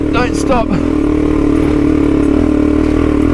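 Adventure motorcycle engine revving hard as the wheel spins on a slippery, wet mountain track, a loud, steady drone close by, with a man's brief exclamations at the start.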